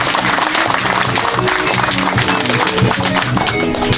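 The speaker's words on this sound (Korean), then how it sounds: "동시에 박수로 환영해 주시면 되겠습니다" A large audience at a formal ceremony applauds to welcome guests, with dense, continuous clapping that stays loud and even throughout.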